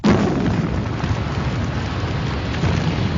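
A sustained, heavy roaring rumble from a crude oil tank boilover explosion and fire, loud and continuous throughout, with no voices.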